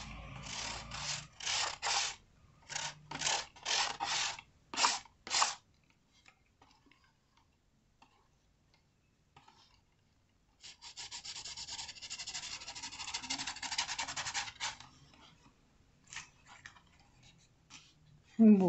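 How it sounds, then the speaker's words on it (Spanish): A knife blade scrapes across recycled calendar paper in a craft project, giving a close series of short, rough rasping strokes in a steady rhythm, then a pause and a longer continuous scraping stretch, with a few final strokes. "acá lo raspamos un poquito más."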